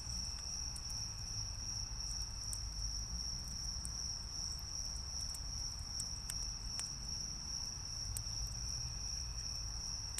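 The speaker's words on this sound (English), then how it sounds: "Oh my god, a bat got a cicada!" Cicada buzzing as a bat catches it near a tree at an outdoor bonfire gathering: a steady, loud, high-pitched insect drone runs unbroken throughout, with brief sharp clicks and flickers scattered over it.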